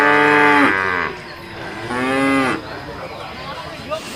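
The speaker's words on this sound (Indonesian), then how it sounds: "Ini kerbau" A water buffalo moos twice, two long, loud, close lowing calls separated by a short pause.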